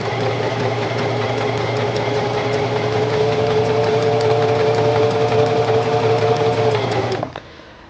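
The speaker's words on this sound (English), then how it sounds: "and sew along your seam" A Singer Simple sewing machine hums steadily at close range as fabric is guided along a seam, the motor whirring continuously for about seven seconds before it stops.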